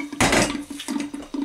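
Lentils from a net tipped into a saucepan for tarka daal, a loud clattering rush followed by a few smaller knocks and rattles against the pan.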